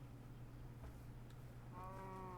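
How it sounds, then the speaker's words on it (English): A sheep bleats faintly in the Minecraft video game, one short wavering call near the end over a low steady background hum. "Sheep! Yes, okay, we found sheep."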